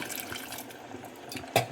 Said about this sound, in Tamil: இப்போ தண்ணி ஊற்றி சேர்த்துக்கலாம்